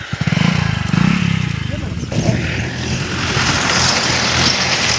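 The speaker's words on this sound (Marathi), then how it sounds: "चला ट्रॅक्टर आले चला." A farm tractor engine approaches, its low chugging rumble loud and close for the first couple of seconds, then giving way to a steady broadband roar as people talk nearby.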